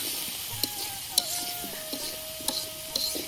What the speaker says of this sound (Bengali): পেঁয়াজ মরিচ আলু কষিয়ে নিচ্ছি আমরা